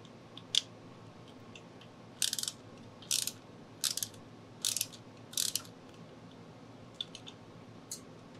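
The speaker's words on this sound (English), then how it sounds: "That's a perfect time to go ahead and remove the OEM key switch bracket." A motorcycle's OEM key switch bracket being removed during a coil relocation, with several short clusters of metallic ratcheting clicks spaced a second or so apart, close and crisp over a quiet background hum, no talk.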